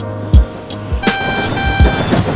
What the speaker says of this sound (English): the train departs the station just 5 seconds late